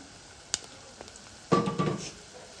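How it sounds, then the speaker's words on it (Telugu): Onions and coarsely crushed garlic fry in oil in a pan, a quiet sizzle broken by a sharp clink and then a louder burst of stirring and spattering. "ఈ ఉల్లిపాయలన్నీ మంచిగా మనం నూనెలో మంచిగా వేయించుకోవాలి"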